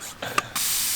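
A small handheld spray bottle sprays only air during mold removal in an old house renovation, a few short hissing puffs followed by a longer steady hiss, close and clear.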